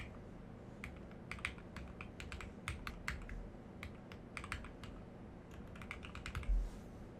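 A password goes in on a computer keyboard as quiet keystrokes in quick bursts with brief pauses between, close up with no voice.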